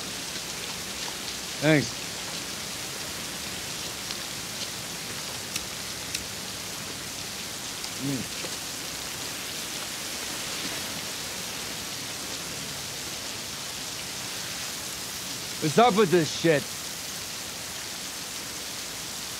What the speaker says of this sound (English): It's like bananas, all this rain.